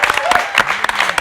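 Short burst of audience clapping for performers at a live music talk show, brisk and close, with a voice speaking over it.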